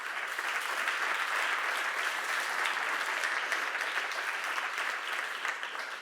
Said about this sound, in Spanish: Y vamos a ir dándoles un aplauso, por favor.